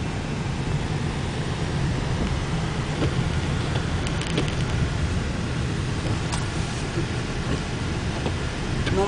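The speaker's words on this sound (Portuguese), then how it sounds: "So that's Mike dirigindo na neve, indo para a escola." A car driven along a snowy road on the way to school gives a steady, close rumble of engine and tyre noise with a broad windy hiss, continuous throughout with no talking.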